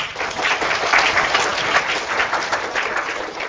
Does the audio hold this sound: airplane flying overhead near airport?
no